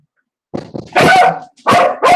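Dogs bark loudly and close by in a house, first a few soft yips and then two or three sharp, full barks in quick succession, with no talk over them.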